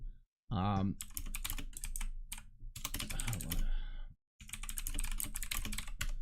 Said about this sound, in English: I just did it because my keyboard is so fucking loud.